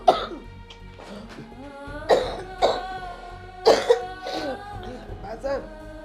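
Several hoarse, harsh coughs burst out in separate fits from someone with a lingering cold, close and loud, with short pauses and breathy throat sounds between them, in a domestic drama scene.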